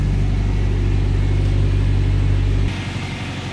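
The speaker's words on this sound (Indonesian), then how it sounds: "Knalpotnya dia dikasih knalpot racing kayak pedelan gitu" A Toyota Innova fitted with a racing exhaust idles close by, giving a steady, loud low rumble that drops in level near the end as the engine note changes.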